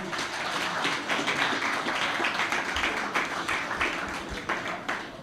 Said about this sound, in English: Round of applause for Meg.